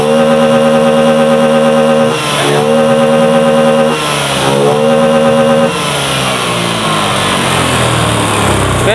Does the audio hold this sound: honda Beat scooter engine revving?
yes